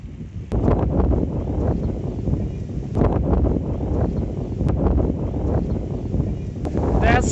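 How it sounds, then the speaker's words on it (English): Strong wind buffets the microphone in a steady, loud roar while cycling downhill in cold, cloudy weather, with brief voices and exclamations breaking through the rushing gusts. "So windy!"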